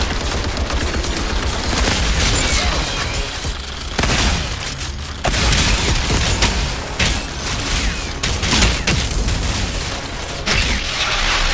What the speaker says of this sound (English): LMG time!